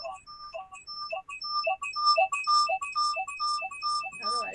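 A phone ringtone plays a repeating electronic melody of quick chirping tones, fairly close, with a burst of rapid notes at the end.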